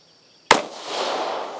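A single pistol shot from a Beretta APX A-1 or Taurus GX4 at a shooting range: one sharp, loud crack followed by a lingering decaying echo, with no talk.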